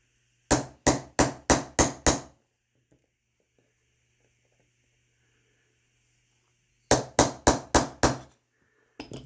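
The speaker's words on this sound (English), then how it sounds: "we used a heavier punch to get started" A hammer drives a heavier metal punch in two bursts of six evenly spaced, sharp, loud blows, separated by a long quiet pause, with a few more strikes starting at the very end.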